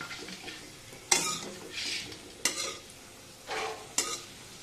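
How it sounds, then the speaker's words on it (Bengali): Pointed gourd (potol) frying in a pan, with repeated sharp scrapes of a spatula stirring against the pan between bursts of soft sizzling, close and quiet with no talk. "তো এখন কিন্তু বানাচ্ছি কিন্তু পটল ভাজা"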